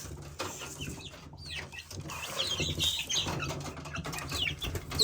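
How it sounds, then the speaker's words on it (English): Home-hatched chicks and chickens cluck and peep in a backyard coop, a busy, continuous flock chatter with some wing rustling, fairly close. "These are the chicks we hatched ourselves, so we'll see what happens with them."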